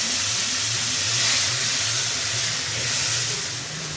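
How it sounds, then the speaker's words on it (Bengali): Small potato pieces fry in hot oil, a steady close sizzling hiss with faint bubbling that holds for the whole stretch, with no talk. "এইগুলাকে আমি তেলে ভেজে নিব"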